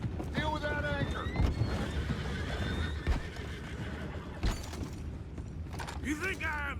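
Horses in the Red Dead Redemption 2 video game neigh and whinny repeatedly over clip-clopping hooves, creaking wood and mechanical clanks, with a few sharp impacts and voices talking in the mix.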